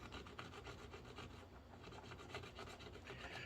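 The edge of a metal file scrapes steadily across a cheap homemade crossover switch. The rasping rub runs without pause at close range and very low level.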